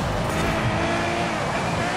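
A Ferrari FXX-K Evo race car roars loud and steady in Forza Horizon 5 on the Colossus track while rivals overtake, with someone talking excitedly over the engine noise.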